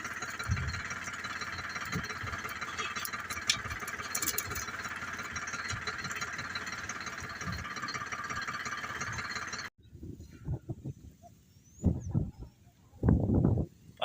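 A tractor engine runs with a steady, loud mid-range drone while laborers load manure into its trailer. It cuts out abruptly near the end, leaving quieter thumps and brief bursts of activity.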